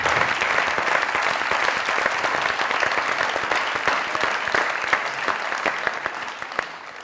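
A studio audience gives a standing ovation for Zia Mohyeddin on a comedy show, sustained full-room clapping that continues throughout at an even level.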